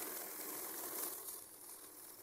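A bill counting machine whirs steadily through a stack of 500-taka notes while checking for counterfeits, a dense continuous mechanical rattle with no voices.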